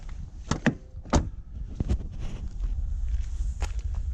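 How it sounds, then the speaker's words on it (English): A Honda Civic car door pulled shut outdoors, a couple of sharp thuds and clunks up close amid light shuffling steps and handling noise, with no talking. "Close the door there."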